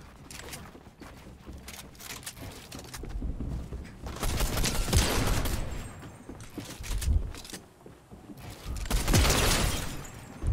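Hammer assault rifle gunfire in a shooter game, several bursts of rapid shots that swell and fade in waves, with impacts and clatter between them.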